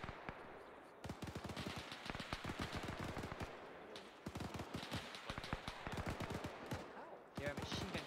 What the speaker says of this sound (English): Your machine guns were awesome now